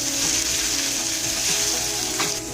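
Chicken pieces with garlic and ginger paste fry in a kadai for an Indian chicken curry, giving a steady, close sizzle with soft stirring scrapes and no voices.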